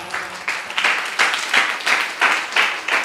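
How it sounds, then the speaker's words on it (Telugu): A church congregation at a Sunday service claps loudly together, a steady rhythmic series of sharp hand claps at roughly even intervals, with no talking. "చప్పట్లు కొట్టండి గట్టిగా"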